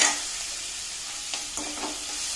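Onions fry with two red chilies and a bay leaf in a steel kadhai for paneer bhurji, giving a steady close sizzle broken by a few soft stirring clicks.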